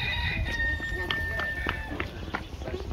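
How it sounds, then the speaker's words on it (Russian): Chickens run around a petting zoo at a market in Tel Aviv, with a rooster crowing and scattered clucks and scuffles amid outdoor crowd noise while someone talks over it. "Бегают курицы,"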